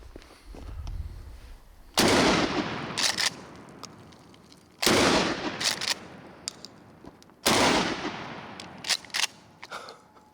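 Three loud, close shotgun blasts from a Mossberg Nightstick 12 gauge firing rusty pheasant rounds, evenly spaced a few seconds apart, each followed by the clack of the action being racked.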